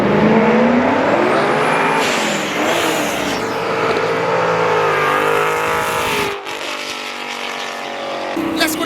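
Several cars rev hard and accelerate away from a car meet, their loud engine roar rising and falling continuously while people talk and shout close by.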